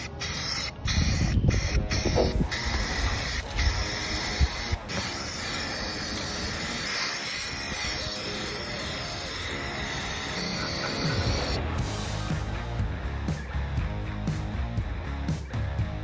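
Paint is sprayed onto a utility trailer, making a loud, steady hiss close by that runs for most of the clip and then gives way to a softer, rougher hiss toward the end, with no talking.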